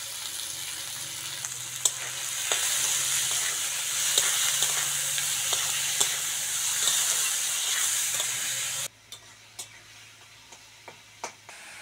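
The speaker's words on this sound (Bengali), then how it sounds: "তেলের মধ্যে টমেটো আর পেঁয়াজটা দিয়ে দেবো।" Tomato and onion fry in hot mustard oil in a wok, giving a close, steady sizzle with occasional stirring clicks; the sizzle drops sharply near the end, leaving a quieter hiss and a few scrapes.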